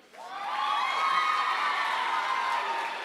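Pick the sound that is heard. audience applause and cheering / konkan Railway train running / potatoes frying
audience applause and cheering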